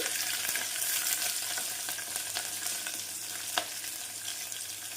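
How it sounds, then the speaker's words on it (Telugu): Spices and curry leaves crackle and sizzle in hot oil for a tempering, a continuous frying hiss broken by occasional sharp pops and stirring clicks, close and fairly quiet. "ఇవన్నీ కూడా బాగా వేగిపోవాలి"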